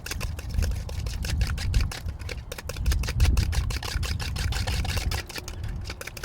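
Flavouring is whisked into a homemade carp boilie mix, a rapid run of close, crisp ticking clatters as the whisk strikes the bowl, continuous and fairly loud with no speech.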